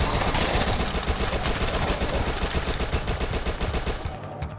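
Submachine gun fire in the zombie shooter Dead Nation, a rapid continuous stream of loud, punchy shots that runs for about four seconds before cutting off.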